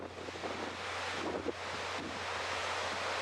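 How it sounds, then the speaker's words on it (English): Ocean waves surging and sloshing in the Saipan grotto as a storm rolls in, with steady gusts of wind buffeting the microphone over a constant roar of surf. "you can see the wave action of the ocean sloshing the currents around in the bottom down here"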